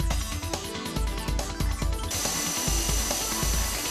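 A machine taps M6 threads using a MEGA Synchro tapping holder, with steady dense mechanical noise and rhythmic clicks that shift into a brighter, more continuous whirr partway through.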